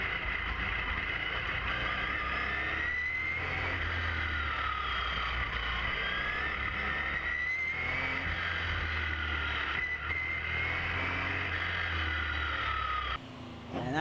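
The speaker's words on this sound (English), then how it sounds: "Sensational sounding motor car." A 1979 Jaguar XJX race car climbs a hill at Noosa, its engine loud and sustained with rising and falling pitch through gear changes and corners, steady throughout with a brief dip near the end.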